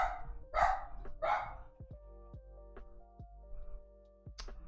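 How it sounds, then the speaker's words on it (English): Dog barking in the video game Minecraft: three quick, close barks at the start, then soft scattered ticks and clicks over a faint tonal game backdrop. "Hey, there's a puppo! Let's do bark."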